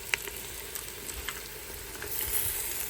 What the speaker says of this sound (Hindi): अब मैं इसमें डालूँगी ये गोश्त जो मैंने धोकर रख लिया था पास